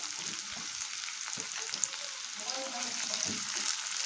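Torn green chillies and curry leaves fry in hot oil with a soft, continuous sizzle, broken by a few low stirring knocks and scrapes. The sound is quiet and close, with no talking.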